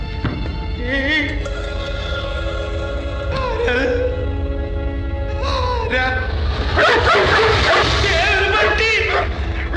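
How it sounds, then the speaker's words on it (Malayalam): A dog barks in several sharp bursts spread through the scene, set against loud raised voices and a constant background bed. "ഇവിടെ ഒരു പട്ടി"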